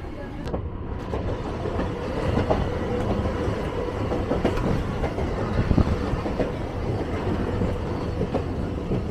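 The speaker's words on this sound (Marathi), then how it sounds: "आता बेलापूर CBDवरून आपली ट्रेन निघाली आहे" Train pulling out of CBD Belapur toward Uran, heard from inside with a steady rumble and rhythmic clickety-clack of wheels over rail joints, building slightly as it gathers speed.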